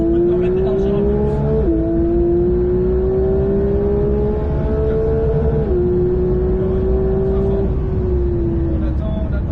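A Porsche 911 992 GT3 on the Mettet race track accelerates hard, its engine note climbing through the revs with upshifts marked by brief dips, loud and close from onboard with a voice talking over it.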